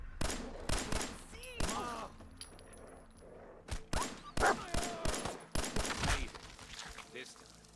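Bursts of gunfire in Fallout 4, sharp shots fired in quick uneven volleys with short gaps between them, fairly close and loud, with a voice talking in between.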